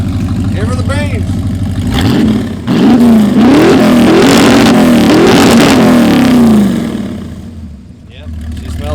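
A 1986 Ford F-150 with a carbureted engine idles, then revs hard several times in quick succession close by, settling back down, with voices talking over the engine.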